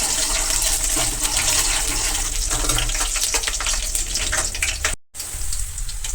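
Dried red chillies fry in hot oil while festival dishes are cooked for Makara Sankranti, giving a steady, close sizzling hiss that cuts out briefly near the end before resuming.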